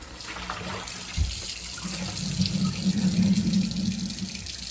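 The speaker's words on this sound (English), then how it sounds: "And I'm going to get my hands washed here." Running water from a kitchen tap splashes steadily into a sink as hands are washed, a moderate continuous rush that swells midway after a brief knock.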